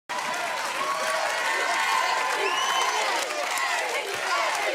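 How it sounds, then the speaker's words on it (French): A large crowd applauds and cheers wildly, with dense continuous clapping and scattered shouts and whoops building throughout. "la foule qui est en délire"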